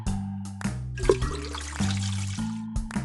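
Cartoonish running water from a hose filling a dog's bowl in a children's science game, short gushing splashes stopping and starting against a playful musical backing.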